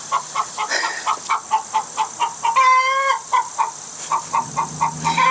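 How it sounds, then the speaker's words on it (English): Backyard hens, including a Silkie, cluck in a steady, rhythmic chorus nearby, and one bird lets out a louder drawn-out call partway through. "it's not the roosters that you need to worry. It's the hens. They are loud"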